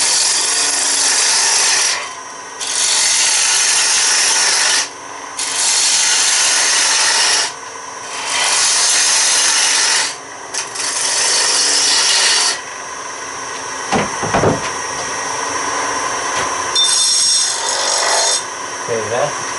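A woodturning tool cuts a tenon into a spinning log, sounding as loud, harsh scraping bursts of a couple of seconds with short pauses between them, then lighter, irregular cuts toward the end.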